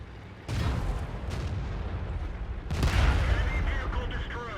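A tank cannon in World of Tanks booms against a Tiger's thick frontal armor, two heavy blasts spaced a couple of seconds apart, each followed by rumbling decay, with a voice speaking between them.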